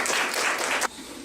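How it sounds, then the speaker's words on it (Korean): Audience applause welcoming a speaker at a startup networking forum, a full, dense clapping from a seated crowd that stops abruptly under a second in, leaving quiet room tone. "이현정 대표님을 모시고 과연 해외 투자가들이 볼 적에는 어떤 스타트업이 또 있는지 박수로 모시겠습니다"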